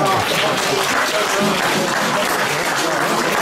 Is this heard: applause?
yes